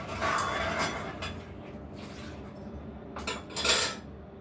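Grains for frying are washed in a metal kitchen utensil, with clinking, scraping and rattling against the vessel in a few close bursts, louder near the end.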